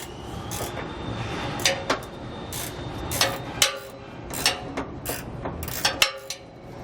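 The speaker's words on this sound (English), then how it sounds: "So I'll take a 15 millimeter wrench" A 15 mm wrench works a nut loose on the bumper mount of a 2018 Jayco travel trailer, making a series of close, irregular ratcheting clicks and metallic ticks over faint background noise.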